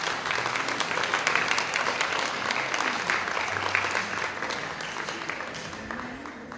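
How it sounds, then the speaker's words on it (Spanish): Loud, sustained applause from an audience at a university anniversary ceremony, dense steady clapping filling the room for several seconds before gradually easing off. "Fuerte aplauso, por favor."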